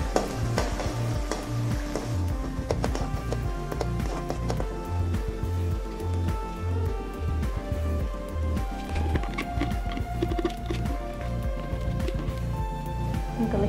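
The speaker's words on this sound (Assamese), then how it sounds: "মছলাখিনি অলপ মই কম জুইতে ভাজোঁ।" Ground spice paste frying over low heat in a pan, a continuous close sizzle with a brisk, regular rhythm of spatula stirs and scrapes throughout, no voices.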